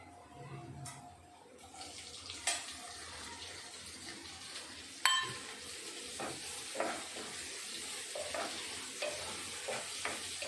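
Chopped tomatoes go into a hot pan for aloo puri, with a loud hiss and crackle followed by a steady sizzle and occasional stirring clinks. Kitchen sounds sit nearby.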